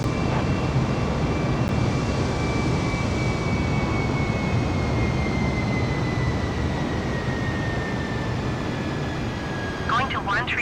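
Airbus 320 jet engines in a night flight simulator game, a constant loud droning roar with a slowly falling whine on top that holds steady throughout.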